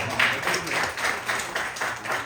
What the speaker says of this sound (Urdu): یحییٰ کے لیے بہت ساری تالیاں ہیں